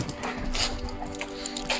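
Dogs, one named Phoenix, whimper and yip briefly up close in a room, with a soft whine over background noise.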